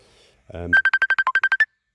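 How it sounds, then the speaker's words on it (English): A phone ringtone cuts in right after a brief low burst, playing a quick run of about ten short, bright electronic beeps at an even pace, loud and close in a quiet workshop. "Literally every time I've tried to do something, the phone has rang."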